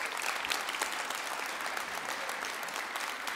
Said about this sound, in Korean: 오늘 학위 수여를 받는 모든 학생들에게 축하와 격려의 박수를 다시 한번 보내주시기